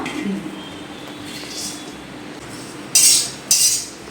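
Cashews, almonds and walnuts roast on low heat in a kadhai, with a low background hum and then two short, sharp bursts of a spoon scraping and stirring through the nuts near the end.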